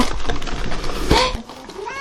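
A cat in a box gives a short meow amid scratching and rustling of cardboard, close by, followed by a few faint rising squeaks near the end.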